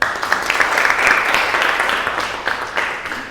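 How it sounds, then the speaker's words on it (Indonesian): An indoor audience at a religious talk breaks into applause, a bright crackling patter of many hands that rises quickly and holds steady before easing off slightly, close and fairly loud with no voices over it. "Tepuk tangan."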